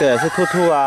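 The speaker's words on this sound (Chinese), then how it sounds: "那是公鸡在叫的声音" A rooster crows briefly and close by on a rural eco-farm, its warbling call overlapping a voice speaking.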